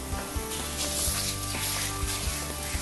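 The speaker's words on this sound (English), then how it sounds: "Go ahead and put our sausage in there." Pork sausage fries in a pan for biscuits and gravy, a steady loud sizzle close by with small clicks and scrapes of stirring and no speech.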